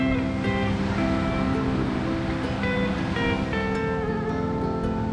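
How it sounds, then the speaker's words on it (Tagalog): Sea waves wash onto a white sand beach at Laiya in a steady, full roar of surf with a faint tonal hum beneath, and no one talks. "Parang dagat dito. White beach naman siya."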